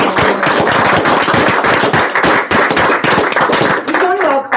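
Loud, close clapping from the audience at a city council meeting, dense rapid claps overlapping into a continuous burst, with a voice speaking briefly near the end.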